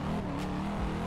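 Car engine in Assetto Corsa, driven from hood view on the Fujimi Kaido mountain road, gives a steady low droning rumble close up, holding one tone for about a second with a slight dip near the end.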